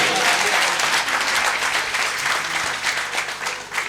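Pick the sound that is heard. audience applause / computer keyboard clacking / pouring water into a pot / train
audience applause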